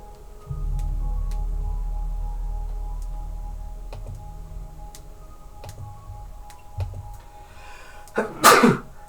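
A single sharp sneeze bursts out near the end, following a steady low hum and a few faint ticks in an otherwise quiet room.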